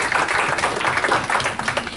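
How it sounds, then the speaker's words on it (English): Loud applause fills the space at a church service, a thick wash of many people clapping at once, sustained and close. "give yourselves a round of applause"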